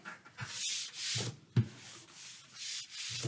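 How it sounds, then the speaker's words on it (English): Duct tape being burnished down onto a handmade journal cover, heard as close, repeated rubbing strokes with a dry, scratchy texture, coming in several short bursts with brief pauses between them and one sharper tap partway through. "Burnish that down. Burnish that down."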